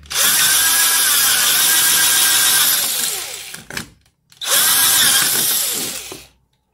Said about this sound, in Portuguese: eu vou passar a broca para facilitar um pouco mais o trabalho depois